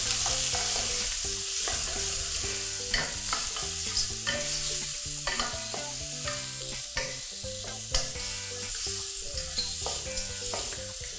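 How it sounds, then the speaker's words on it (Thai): Shrimp and squid stir-fried in a hot wok for a seafood noodle dish, a loud continuous sizzle with busy clanking and scraping of the spatula throughout. "ผัดให้กุ้งกับปลาหมึกสุกประมาณนึงนะครับ"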